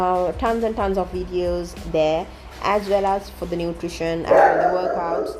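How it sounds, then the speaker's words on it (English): Duke, a pet dog, barks and yips in short bursts indoors, mixed in with someone talking steadily over him. "That is my dog Duke, by the way."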